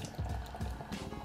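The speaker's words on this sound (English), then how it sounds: "Let's pour this and see how it is." Citra pale ale being poured from a can into a glass, a steady gurgling, splashing stream of liquid close by, with no voices.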